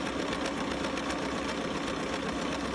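A Bernina sewing machine stitches fabric close up, giving a fast, steady mechanical whirring and rhythmic needle clatter that runs without pause.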